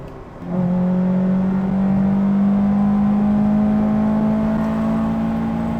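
A car with a Toyota 1.6-litre 16-valve 4A-GE engine starts revving after a brief quiet moment, then holds a steady, loud, buzzy rev up close for several seconds with no talking.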